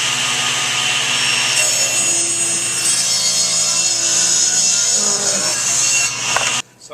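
A table saw cuts a wooden board pushed along the fence: a loud, continuous whining rip through the wood lasting several seconds, ending with a sudden drop as the cut finishes.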